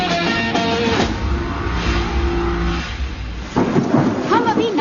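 Heavy rain pours outside Nashik jail as thunder rolls loudly and steadily, with the downpour forming a dense, continuous roar throughout.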